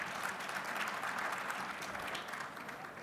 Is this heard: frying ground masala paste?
no